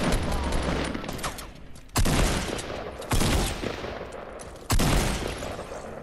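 Bursts of gunfire from Fortnite weapons, three loud sharp volleys spaced a second or so apart, each trailing off into game ambience, with no talking over them.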